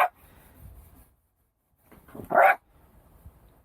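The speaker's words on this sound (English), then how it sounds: "Hector, what are you barking?" Hector, a dog aboard a narrowboat, gives faint whines and then one sharp, close bark, followed by quieter snuffling in an otherwise still room.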